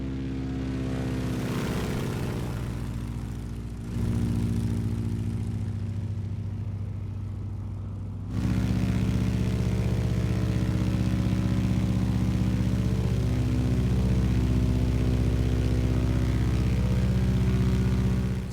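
Stearman biplane with a radial propeller engine in Microsoft Flight Simulator, a steady, loud droning hum that shifts in pitch and grows heavier partway through, continuous and close with no talking.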